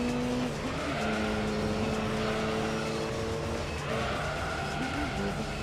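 Gran Turismo 3 race cars with a fast LMP prototype closing in, engines whining steadily with rising and falling pitch, plus bursts of tire squeal, loud and continuous throughout with no talk.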